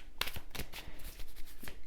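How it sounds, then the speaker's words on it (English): Tarot cards are shuffled by hand in quick riffling bursts, a dry papery flutter with sharp snaps, close and fairly quiet with no talking. "Let's keep shuffling."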